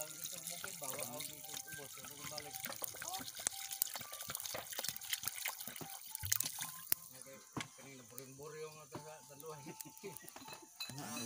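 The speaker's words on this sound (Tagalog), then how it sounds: "At lalagyan na po natin ng tubig guys." Water pours into a cooking pot while native chicken tinola is being prepared, splashing and trickling intermittently under nearby talking and kitchen clatter.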